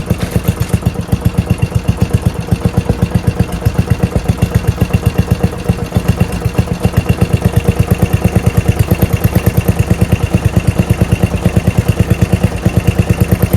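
A Murray mower's 12.5 HP Briggs flathead engine with a Nikki carburetor idling steadily, its loud, close, even chugging firing pulses running throughout with no talk.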